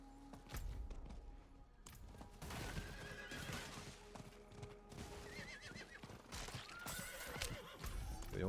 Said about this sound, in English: getting the horse has increased the speed with which we explore by so much.